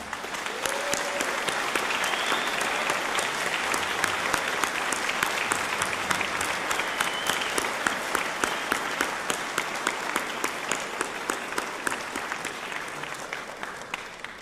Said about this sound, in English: we would just like to applaud you for all of your wonderful work with the students